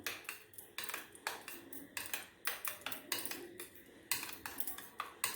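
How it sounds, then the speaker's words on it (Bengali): A metal spoon mixes yogurt with spices in a bowl for dahi arbi, making a quick, irregular run of close clinks and taps against the bowl. "এবার আমি এই চামচের সাহায্যে মশলার সঙ্গে দইটাকে ভালো করে মিশিয়ে নেব।"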